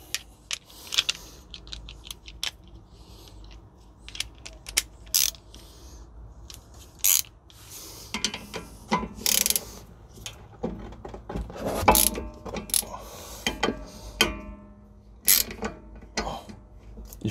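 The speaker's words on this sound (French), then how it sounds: "je dévisse ces vis de coulisseau" A wrench loosens the brake caliper slide bolts on a Seat Leon TDI, giving irregular sharp metallic clicks and ratcheting clacks close by, scattered over quiet pauses, with no speech.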